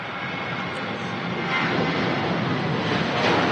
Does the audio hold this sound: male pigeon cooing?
no